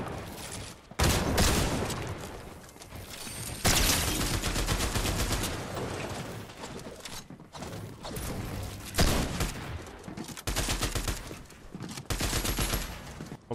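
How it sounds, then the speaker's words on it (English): Gunfire in the Fortnite video game crackles in rapid, dense bursts of shots and fusillades, loud and close, with brief gaps between volleys. "They're just like shooting in their box."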